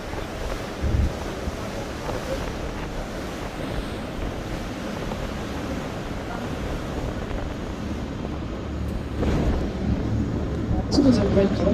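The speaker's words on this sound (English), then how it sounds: "It's gotten very windy." Strong wind buffets the microphone aboard a Thames river cruise boat in London, a steady roaring rush with gusty swells and water noise beneath, a few faint voices in the background.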